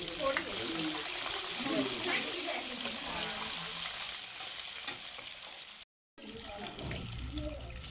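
Fish fries in ghee over medium heat with a steady, bright sizzle and bubbling throughout, a short gap near the end, and a voice speaking faintly beneath.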